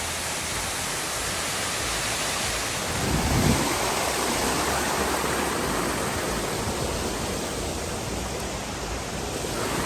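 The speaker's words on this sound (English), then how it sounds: "Another awesome waterfall." A waterfall on the Ricketts Glen Falls Trail in Ricketts Glen State Park roars steadily and loudly throughout, a dense, unbroken wash of rushing water with no voices.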